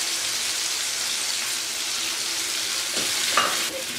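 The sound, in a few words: ginger frying in a pan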